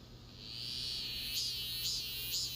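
Frogs calling in a field at night, a steady high trilling chorus with three louder repeated calls rising out of it, fairly faint and continuous with no voices.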